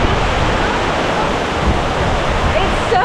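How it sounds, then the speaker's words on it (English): A powerful waterfall in East Java, Indonesia, roars as a loud, unbroken wash of rushing water close by, with a faint voice near the end. "it's probably the most beautiful waterfall I've ever seen"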